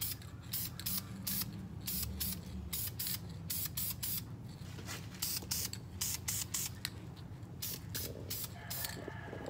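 Aerosol spray paint hisses steadily onto brake calipers in light coats, loud and close, with short bursts and brief pauses between passes and no voices.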